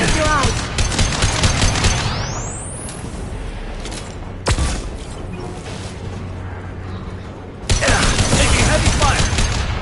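Heavy gunfire in the video game Mass Effect: dense, continuous firing and explosive bursts fill the scene, with a sharp boom near the middle, a brief lull, then a loud resurgence toward the end.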